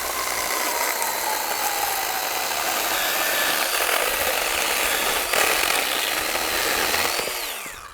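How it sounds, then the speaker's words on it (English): A Milwaukee Fuel cordless chainsaw with a 6-inch bar cuts through a big piece of timber, its high-pitched motor whine and chain rasp running loud and steady for the whole stretch, then tapering off at the end as the cut finishes. "try to cut it in half."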